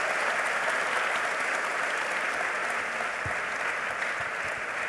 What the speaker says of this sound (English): Let's have a big round of applause to the panel members